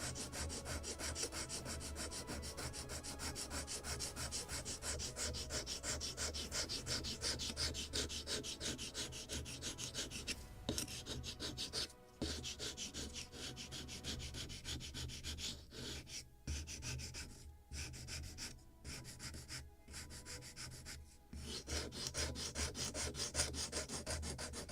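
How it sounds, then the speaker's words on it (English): A wooden part of a model of the 1776 gunboat Philadelphia is shaped by hand with a file and sanding block, producing steady rapid rubbing strokes, close and continuous, with a few brief pauses and no talk. "And the rest I will use file to shape it, or even sanding block."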